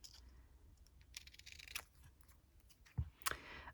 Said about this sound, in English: cutting straight with scissors